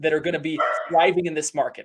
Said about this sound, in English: I apologize if you hear my dog in the background.